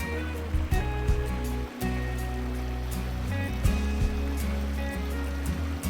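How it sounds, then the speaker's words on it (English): A mountain stream in the Altiplano where locals wash their laundry by hand, with water rushing in a steady close wash and occasional faint knocks and splashes. "the locals do their washing the old way, by the stream"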